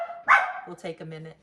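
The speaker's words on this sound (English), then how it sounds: "Sorry about the dogs." A dog gives a sharp bark near the start, and a person talks over it right after.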